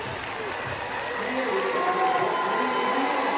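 Stadium crowd at a World Para Athletics Championships men's T37 long jump final in London, clapping and cheering steadily for a jumper before his last attempt, a broad continuous wash of applause under commentary.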